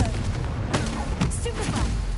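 Spell explosions from Bombarda and Confringo in the Hogwarts Legacy video game on PS5 burst in a quick run of booming blasts over a dense rumbling background, with a player's voice shouting through it.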